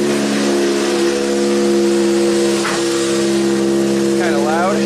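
A 1987 Toyota MR2 engine idling high around 2,000 RPM while warming up, a loud, steady, close drone with a constant tonal hum, a voice talking faintly underneath.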